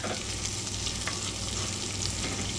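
Onions and minced garlic fry in a pan with a steady, close sizzle and crackle and a low hum underneath, the base for a Southern-style smothered chuck pot roast.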